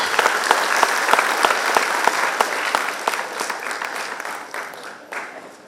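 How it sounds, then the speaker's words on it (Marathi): Dense, steady applause from an audience at a Diwali dawn music celebration in a cultural hall in Saswad, loud and sustained with sharp individual claps standing out, tapering slightly toward the end. "जोरदार टाळ्या हव्यात"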